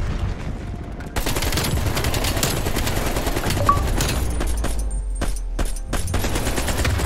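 AK-47 gunfire in Black Ops Cold War, loud sustained automatic bursts that rattle almost continuously, with a few brief gaps between bursts near the end.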